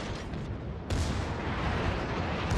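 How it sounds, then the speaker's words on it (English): Heavy naval gunfire in the World of Warships video game, with a destroyer under fire: a dense, roaring barrage of shell blasts and rumble, marked by a sharp louder boom partway through. "he is putting out some heavy shots on us"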